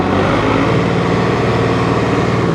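A Massey Ferguson 2605H two-wheel-drive utility tractor engine runs at a steady, loud low rumble, its even pulsing drone continuing without a break and no one talking.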